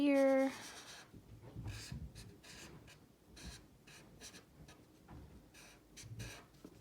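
A pencil or marker scratches lines onto paper while drawing a snowman, soft rubbing strokes repeating in short bursts after a brief tone at the start, with a voice speaking at times.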